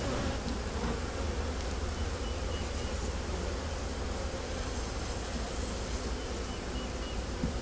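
Honeybees around an over-wintered hive give a steady, dense buzzing hum that holds without a break, faint and close, with no voices over it.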